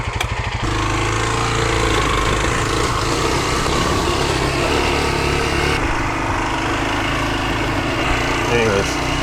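A motorcycle engine roll-started in second gear catches after a brief moment and then runs loud and steady with a throbbing, buzzy tone, close up and dominant.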